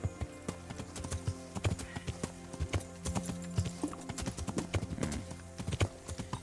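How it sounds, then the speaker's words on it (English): Horse hooves clip-clop at a steady walking pace in the medieval video game Kingdom Come: Deliverance, a continuous rhythmic series of close, distinct hoof strikes with faint creaks and ambient sounds behind. "you're not quite as good as a Skyrim horse"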